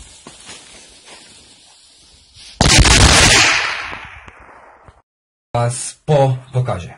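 An Explosive VI firecracker battery, made in China and rated at 70 shots, lets off a loud sharp crackling blast that fades away over about two seconds, followed by a short silence and then someone speaking nearby.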